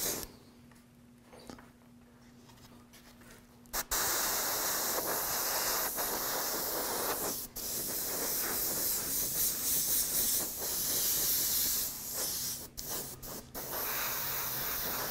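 Aerosol can spraying black paint onto a laser blaster prop, a close, steady hiss in long bursts broken by brief pauses, with a quieter stretch of handling before the first long spray.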